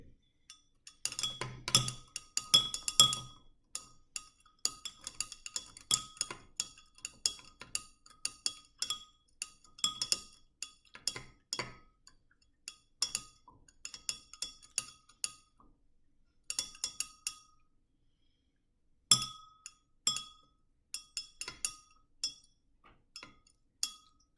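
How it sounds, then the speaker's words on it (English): A spoon stirs a sugar cube dissolving in a glass, clinking rapidly and steadily against the sides in quick bursts with brief pauses, close and clear with no talking. "We're going to add the sugar cube, see how long it takes to dissolve. And we're going to stir."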